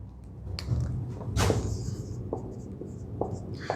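Chalk or marker taps and scratches on a classroom board as a maths question on fractions is written out, a few separate close strokes and knocks with quiet gaps between them.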